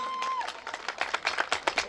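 Crowd applause at a Turkish henna night: many hands clapping briskly and unevenly close by, after a brief held tone.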